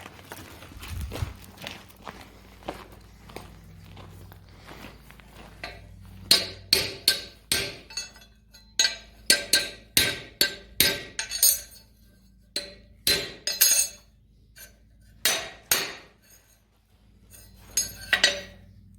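Hammering nails into a horseshoe on a horse's hoof: a run of sharp, ringing metallic strikes in clustered bursts of two to four blows with short pauses between, close and loud, no talking.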